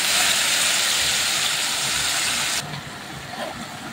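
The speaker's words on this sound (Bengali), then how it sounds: "আমি এই তরকারিগুলো এখন কড়াইতে ঢেলে দিলাম।" Cabbage, potato and green peas hit a hot wok (kadai) with a loud, broad sizzling hiss that drops suddenly partway through to a quieter, steadier fry, close up and without speech.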